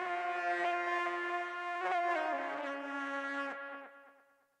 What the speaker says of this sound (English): And then tape echo too at the end